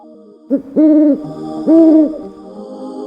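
Two drawn-out, tonal owl hoots follow a short opening call, clear and fairly close against a quiet background, with no one talking.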